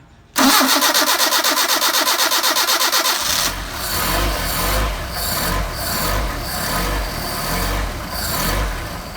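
Car with a French Solex carburettor cranks with a fast, even starter whir for about three seconds, then catches and settles into a rough, uneven idle with pulsing exhaust, loud and close.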